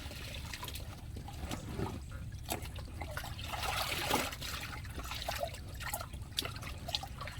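Water trickling and dripping at an outdoor provincial laundry spot, a continuous close splashing flow with irregular drips and small splashes scattered throughout, no talking.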